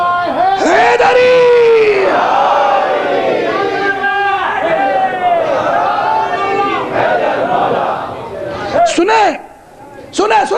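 A majlis congregation loudly chants religious slogans in unison, repeated call-and-response shouts with strong massed voices, briefly dipping before another burst of chanting at the end.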